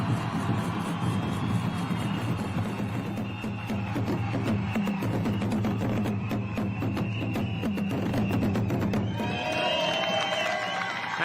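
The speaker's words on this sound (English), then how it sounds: "And the roar of the crowd as she rolls away" A large crowd roars and cheers continuously as a junior women's cyclist rolls away to start her individual time trial at the road world championships in Kigali, a loud sustained wall of voices and shouts with whoops rising near the end.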